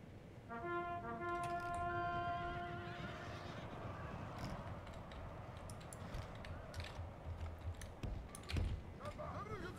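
In the Third Age Total War game, cavalry horses whinny loudly at the start, and a busy battle din of hooves and clatter follows underneath.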